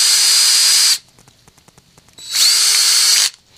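Two bursts of a power drill driving machine screws into a full-scale prop bow, each about a second long and loud, the motor's whine rising as the screw seats, with a short quiet gap of faint clicks between them.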